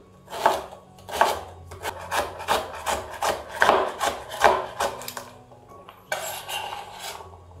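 A knife cuts vegetables for a broccoli and radish salad on a wooden board, a close, even rhythm of about nine chopping strokes followed by a brief scraping shuffle.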